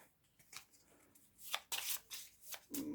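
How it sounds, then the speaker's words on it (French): Playing cards for the Shadowrun Crossfire card game being shuffled by hand, a few separate riffling bursts building to louder, denser handling near the end, close and with no talk. "on mélange tes cartes"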